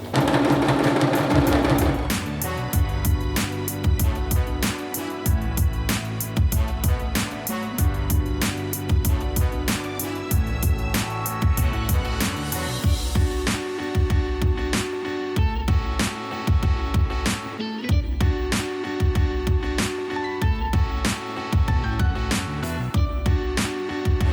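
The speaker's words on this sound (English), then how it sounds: "You just want to accommodate for that faux fur going through your machine because it is a tougher type of fabric to sew." A sewing machine stitches through thick faux fur fabric, its needle hammering in a fast, steady mechanical rhythm that runs on for over twenty seconds, close and fairly loud with no talking.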